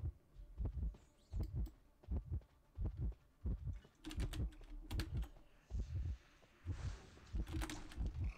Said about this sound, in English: Why was my heartbeat so large?